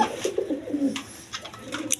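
A pair of Bombay pigeons coo softly at close range in a few short, rounded bursts over a quiet background.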